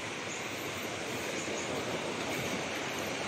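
A river flows in a steady, broadband rush, constant and moderately quiet throughout, with no voices.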